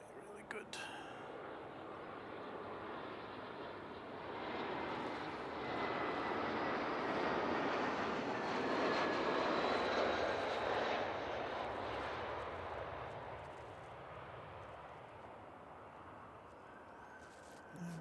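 Airliner engines on arrival approach to Christchurch heard from an outdoor mound on Harewood Road, a broad roar swelling to a peak midway and slowly fading, fairly distant.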